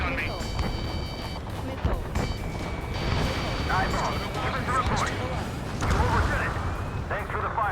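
Artillery fire support booms in the Ace Combat 7 video game, with a dense rumble of blasts and explosions over continuous aircraft noise. Radio-style voices talk over the barrage.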